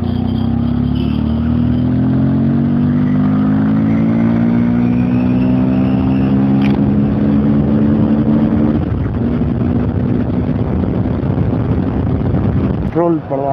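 A modified Bajaj Pulsar 150 motorcycle with an altered exhaust runs loudly at a service shop, its engine note rising steadily as it revs, then easing into a rough idle, with wind noise throughout.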